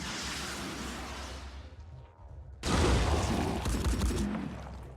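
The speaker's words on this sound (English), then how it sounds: "A little bit of return fire." Bursts of rapid gunfire in the Phoenix Point video game form a dense rattling volley. A short lull follows, then a louder, heavier barrage with booming impacts.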